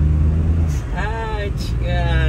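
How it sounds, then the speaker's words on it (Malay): An idling Perodua Kancil engine rumbles low while two short airy hisses burst out from its turbo blow-off valve venting, with whistly rising tones between them. "Tengok blow off dia. Bunyi blow off dia pun manja."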